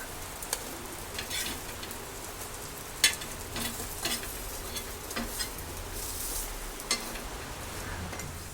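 Breadfruit slices frying in a pan, a steady low sizzle and crackle that carries on throughout, with scattered soft ticks and a few louder pops.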